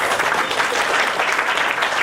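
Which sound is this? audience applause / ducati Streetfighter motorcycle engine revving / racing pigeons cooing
audience applause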